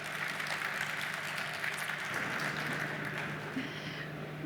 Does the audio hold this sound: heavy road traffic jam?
no